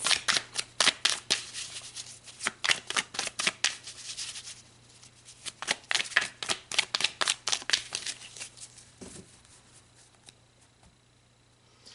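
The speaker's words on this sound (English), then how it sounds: "let's pull some more cards" Tarot cards being shuffled, bursts of crisp riffling flicks in rapid rhythmic runs, close and clear, pausing midway and tapering off at the end, with no talking.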